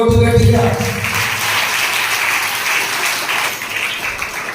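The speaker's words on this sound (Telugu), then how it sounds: "చప్పట్లు కొట్టు గట్టిగా" A church congregation at a Sunday sermon claps loudly and steadily, the dense applause following a brief voice at the start and continuing at a sustained level.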